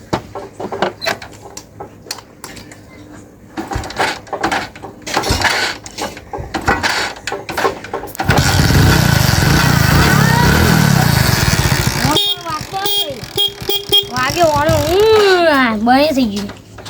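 A motorbike is kicked or cranked over and its engine catches, settling into a loud, steady idle partway through, with people talking nearby before and during the start.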